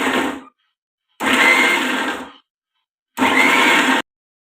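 A kitchen mixer grinder whirs in three loud, close pulses with silent gaps, coarsely grinding coconut tomato chutney with added peanut powder.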